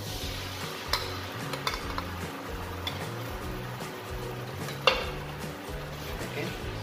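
Pomegranate molasses sauce meets sautéed onions in a hot pan, producing a steady sizzle with stirring and occasional sharp clinks of a utensil against the pan.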